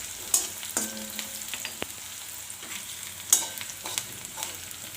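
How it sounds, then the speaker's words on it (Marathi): Small chopped onion frying in hot oil until soft, a steady close sizzle with a few louder pops and occasional scrapes of a stirring spoon, no voices. "हा कांदा पण छान असा मऊ होईपर्यंत या तेलामध्ये आपण तळसून घेऊया"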